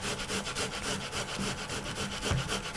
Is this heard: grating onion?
yes